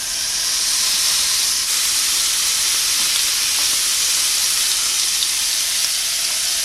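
Two strips of bacon sizzle on the griddle plate of a Dash Flex Press Grill, a small appliance with no heat adjustment. A dense, continuous crackling hiss holds evenly and loudly with no voices.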